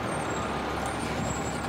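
A commercial garbage truck back from a restaurant trash route arrives at a transfer station scale, giving a steady loud engine rumble and road noise with no breaks.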